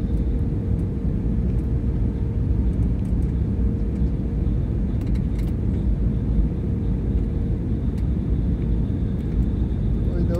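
An IndiGo airliner rolling on the runway after landing at Kolkata's Netaji Subhash Chandra Bose International Airport, a steady broadband engine and rumble roar heard from inside the cabin that holds constant throughout.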